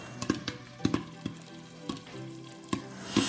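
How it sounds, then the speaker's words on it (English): Popcorn kernels being stirred in a hot pan for toffee popcorn, a low sizzle broken by a series of sharp scraping knocks and rattles at an uneven pace, close by with no talking. "Mix my corn so they don't burn whilst I'm doing this."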